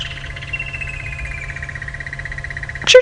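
Crested barbet calling at sunrise in woodland on a safari drive, a long sustained trilling note that slowly drops in pitch over a low background hum, ending in a brief sharper burst.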